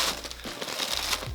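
Tissue paper crinkles and rustles close up while a box of Coach Brigitte boots is unwrapped at Christmas time, in a short continuous burst of papery crackling.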